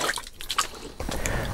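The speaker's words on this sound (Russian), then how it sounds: "Воды я добавляю тоже вот так, шумовочкой, как всегда." Water is dribbled from a kitchen skimmer into winter fishing groundbait, giving a short run of drips and wet squishy splashes, then a fuller, louder pour of liquid in the second half, with no talk.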